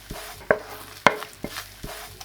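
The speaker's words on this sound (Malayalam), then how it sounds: "ഈ ഒരു ഐസ്ക്രീമിൻ്റെ ഈ ഒരു പോർഷൻ നമ്മൾ നമ്മുടെ ഈ ഒരു പോപ്കോണിലേക്ക് ഒഴിച്ചു കൊടുക്കുകയാണ്." Melted ice cream poured over popcorn and stirred in, giving a few soft sticky clatters and scraping knocks spaced about half a second apart, close and fairly quiet with no talking.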